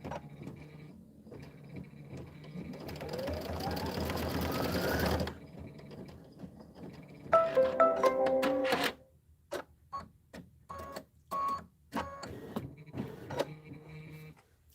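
Embroidery sewing machine stitching down appliqué wings on a Kimberbell quilt block, with a long steady buzzing run followed by shorter bursts of rapid stitching separated by pauses and small clicks.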